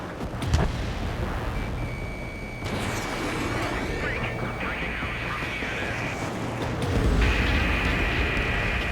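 Heavy artillery and gunfire pound a harbor in Ace Combat: Skies Unknown, a dense rumbling barrage with booms and jet-engine whine that swells louder near the end.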